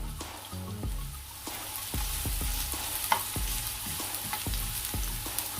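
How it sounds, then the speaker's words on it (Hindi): Roughly chopped onions sizzle and spit in oil on a non-stick tawa, a steady frying hiss with repeated scraping stir strokes throughout, close and fairly loud, no voices. "अब इसमें मैंने ये रफली चॉप किए हुए जो अनियंस हैं वो ऐड करूँगी।"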